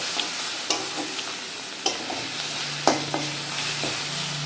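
Ground spice masala fries in oil for a Bengali katla fish kalia, with a continuous sizzle and several sharp scrapes and knocks of a spatula stirring the pan.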